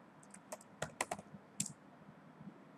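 Quiet, brisk keystrokes on a computer keyboard as a search term is typed, a short irregular burst of clicks with a few louder taps, heard alone without speech.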